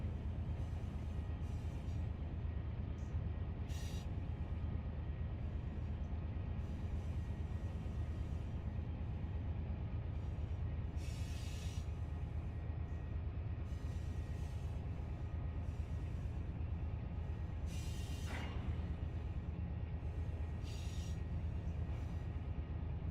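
A train arrives in the Run8 train simulator with a faint, steady rolling rumble. Brief hissing bursts and one short squeal break through now and then.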